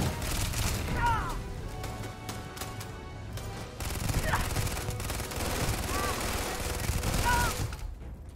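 Gunfire in Starfield: sustained rapid shots and bursts across the clip, mixed with scattered whooshing effects and game noise, steady and loud until a sudden drop at the end.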